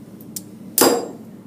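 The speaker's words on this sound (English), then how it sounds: "So I'm going to use a utility hammer" A utility hammer strikes a steel stamp for embossing, giving one sharp, bright metallic hit close by after a couple of small faint taps, then a short ringing decay.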